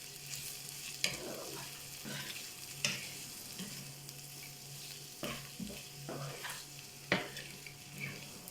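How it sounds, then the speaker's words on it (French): Shrimp tipped into a hot pan with onions and peppers sizzle steadily while a utensil scrapes and stirs, giving intermittent clinks and scrapes over a constant frying hiss, close and moderately loud. "Je vais mettre mes crevettes. Je continue à tourner."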